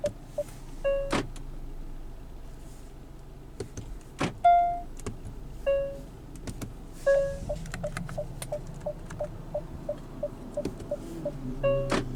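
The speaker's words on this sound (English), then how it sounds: "You can hear the parking sensors going off." A 2024 Hyundai Tucson Limited AWD parking sensor beeps in short repeated tones, speeding up into a rapid steady series, with faint cabin clicks and mechanical noises around it.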